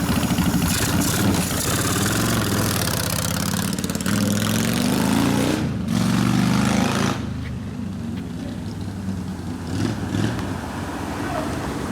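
Rebuilt 1972 Harley-Davidson Sportster XL Ironhead engine warming up at idle, a steady, lumpy rumble that quiets after a few seconds, with people talking over it.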